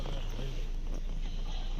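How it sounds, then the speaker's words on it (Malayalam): A horse cart passes with quick clip-clop of hooves under steady road noise, faint and continuous. "കുതിര വണ്ടി കയറുന്നുണ്ട്"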